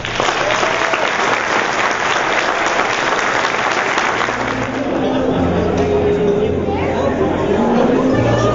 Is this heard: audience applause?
yes